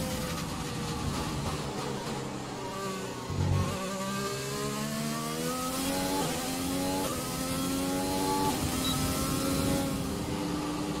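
A Formula 1 race car engine in F1 2020 at Bahrain, whining loudly and steadily with shifting pitch as the driver eases off the throttle, a continuous close engine drone without talk.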